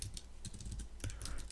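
Someone types on a computer keyboard while entering text for an HTML registration form, with irregular, close, crisp key clicks in quick clusters, fairly quiet and with no talk.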